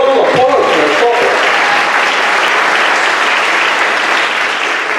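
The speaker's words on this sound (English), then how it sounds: "All right, a little round of applause for the softball." Steady, dense applause from an audience at a high school senior awards ceremony, honoring the softball program, loud and sustained for the full five seconds with a brief voice at the start.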